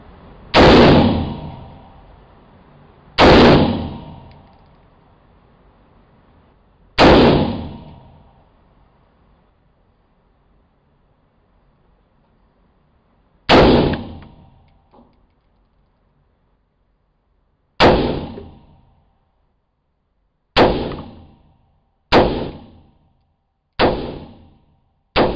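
Rifle fitted with a Yankee Hill flash hider firing outdoors, with nine sharp, loud single shots spaced irregularly, each followed by a short decaying echo and quicker shots near the end.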